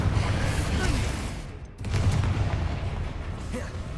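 A Confringo blasting spell goes off in Hogwarts Legacy, a dense roaring burst of noise with a brief dip partway through before the rumble swells again.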